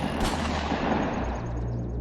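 Gunshot effect in a horror narration about soldiers, a dense, loud blast with a long rumbling decay that fills the whole short stretch, with no voice over it.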